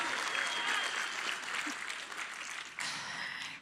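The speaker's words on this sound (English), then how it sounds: "So, yeah, go on, applaud, it's fine." An audience at the PAX East 2022 Gearbox main theater show applauds in a steady, full wash of clapping that swells again near the end, with a voice faintly present underneath.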